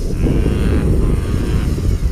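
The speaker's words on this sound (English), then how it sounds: "Sounds lovely with the wind against the props" Propellers of a FuriBee Stormer 220 FPV quadcopter give off a steady, loud whirring drone, with a rough buffeting edge like wind pushing against the blades in breezy conditions.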